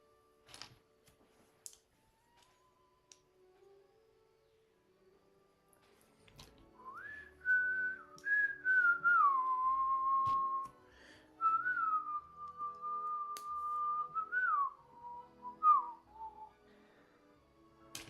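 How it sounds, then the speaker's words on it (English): A single person whistles a wandering tune, sustained notes gliding up and down, with a few faint clicks and taps beforehand in a quiet room. "Wish I was better at whistling than that"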